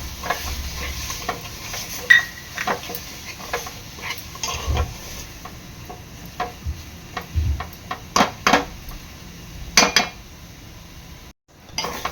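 A spoon stirs goda masala through a frying masala mixture in a pan, with repeated close scraping and clinking against the metal over a faint sizzle, coming in uneven bursts and no voices.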